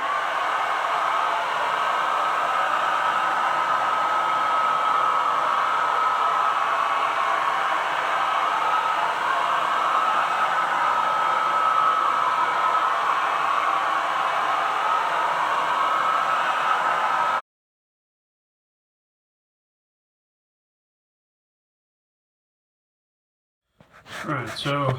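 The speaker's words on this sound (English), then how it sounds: "I'm going to do the hair dryer on the case mouth side" A hair dryer blows steadily with a loud, even hiss and hum for most of the clip, then cuts off abruptly into silence before a brief noise at the end.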